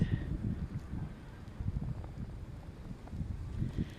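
Strong winter wind gusts buffet a handheld phone microphone outdoors in a northern Russian town, a continuous low rumbling roar that swells and dips without any voices.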